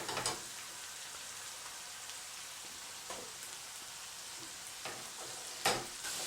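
Venison and wine reducing in a hot pan give a steady, close sizzle, with a few sharp clicks and scrapes of stirring scattered through.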